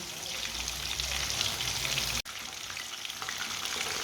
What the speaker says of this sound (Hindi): ये वाली साइड से भी 3 मिनट के लिए फ्राई होने देते हैं